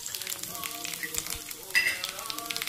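Oil crackles and sizzles close up as a tempering of cumin, onions and dry red chilies fries for a ridge gourd dal, with a brief sharper burst of spitting midway.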